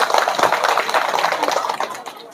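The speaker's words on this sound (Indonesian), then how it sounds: "Tepuk tangan dulu." Clapping from a seated audience at an Indonesian civic outreach talk, a loud burst of many hands near the listener that thins out toward the end, with some voices mixed in.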